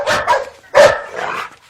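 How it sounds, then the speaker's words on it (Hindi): A dog barks close by, two quick yips followed by a louder, sharper bark and a softer trailing one, with no voices around them. "अबे कुत्ते क्यों भौंक रहा है?"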